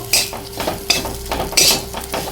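Dried chili, green chili and half-ground ginger paste being mixed together: a handful of close, quick scraping and clattering strokes in an uneven rhythm, with no talking.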